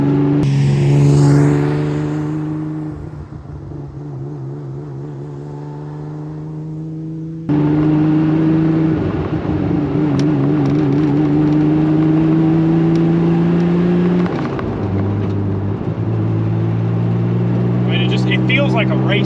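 A vintage Porsche 911 Targa, rescued from a scrapyard and rebuilt, drives with its engine revving and shifting through rising and falling tones, heard from inside the car while a person talks.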